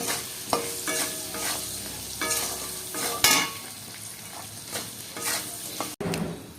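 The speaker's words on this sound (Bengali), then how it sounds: "এবার আলুটা ভেজে নেব।" Potatoes coated in turmeric frying in a pan, a continuous sizzle with repeated scraping and stirring strokes, one sharper clatter midway, close and moderately loud with no talk.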